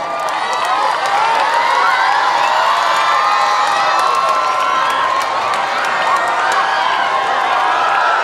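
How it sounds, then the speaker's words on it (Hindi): A large audience at a golden jubilee celebration cheers and applauds loudly and continuously, with whoops and shouting voices over sustained clapping. "जोरदार तालियों द्वारा अभिनंदन करें"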